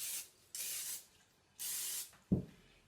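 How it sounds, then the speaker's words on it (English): Oil cooking spray hisses onto a pan in three short bursts separated by pauses, followed by a dull knock, close and fairly quiet. "I'm going to spray my pan with some oil spray"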